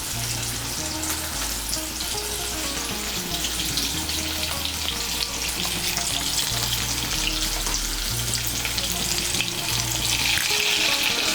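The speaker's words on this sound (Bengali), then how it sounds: "নুন আর হলুদের গুঁড়ো মিশিয়ে নিয়ে আলুগুলোকে লাল করে ভেজে নেব" Boiled potato pieces with salt and turmeric fry in oil for a vegetarian banana-flower kofta curry, making a loud, continuous crackling sizzle with faint stirring underneath, unbroken by voices.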